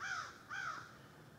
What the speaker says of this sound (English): The crows are gonna come and get me.